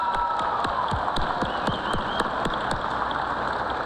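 Graduates and guests applaud at a high school commencement ceremony, a broad steady wash of clapping with sharp individual claps standing out close by.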